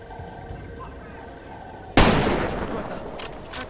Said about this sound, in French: Un tir de sniper.